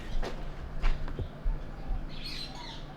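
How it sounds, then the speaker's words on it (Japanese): Faint birds chirp and call in a quiet outdoor setting in Kampong Lorong Buangkok, a village in Singapore, a few scattered tweets over a soft, steady background hum. "鳥の声しか聞こえないですね"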